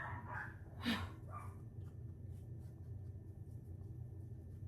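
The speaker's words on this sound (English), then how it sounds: "Every time a car passes, my dogs bark." Muffled dogs barking a few times in a quick burst from behind a closed door in another room, set off by a passing car, then only a low steady rumble remains.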